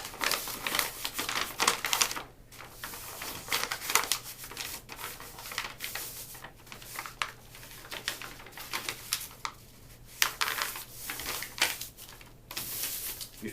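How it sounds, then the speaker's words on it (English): Paper folded and creased by hand to make a book cover, close crinkling and rustling with sharp rubbing strokes along the fold in irregular bursts. "you just fold again along the top of the book"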